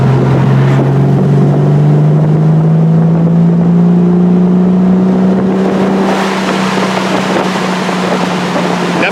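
A loud, steady exhaust from a 1968 Triumph TR250 sports car drones and rises slowly in pitch as it accelerates, with heavy wind rush throughout and no talking.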